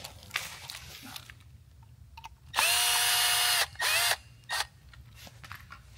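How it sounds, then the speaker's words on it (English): A power drill reverses a screw out of a light fixture during an aircraft LED lighting upgrade, giving one long whirring burst followed by two shorter bursts, close and loud over a quiet room. "we're just reversing, so no big deal there with using a power drill"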